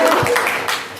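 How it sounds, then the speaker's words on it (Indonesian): Hand clapping in a classroom lesson, a short loud burst of several claps by a small group, fading quickly, with little else around it. "tepuk tangan dong buat kita semua"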